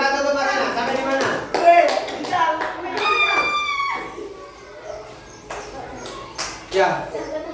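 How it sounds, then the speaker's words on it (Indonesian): Children clapping their hands in a classroom, scattered bursts of claps under steady talking from an adult and children. "Oke, tepuk tangan."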